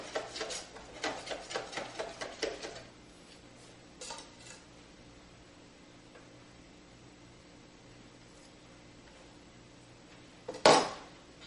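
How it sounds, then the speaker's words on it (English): A knife chops basil finely on a cutting board in a raw-food kitchen, with a quick burst of rhythmic taps at the start, a few more later, and one loud clatter near the end against a quiet hum. "I'm just going to chop up this basil really fine"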